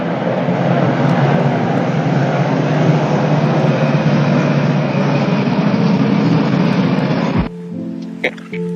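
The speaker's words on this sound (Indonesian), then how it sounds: "helikopter ya." A helicopter flies overhead, producing a loud, steady, broadband rotor and engine roar that holds for about seven seconds, then cuts off abruptly, leaving quiet background.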